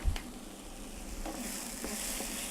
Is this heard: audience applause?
no